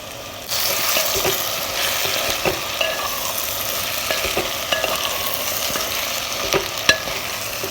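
Soaked peanuts and finely chopped brinjal go into a hot pan for a Maharashtrian mixed-vegetable bhaji, with steady close sizzling and frying throughout and spoon-stirring scrapes and taps now and then.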